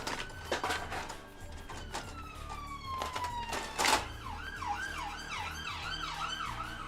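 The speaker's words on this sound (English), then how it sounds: "Invisible police car." Distant police car siren wailing in a steady repeating up-and-down cycle after a long falling tone, faint beneath rumbling background noise and occasional clatter.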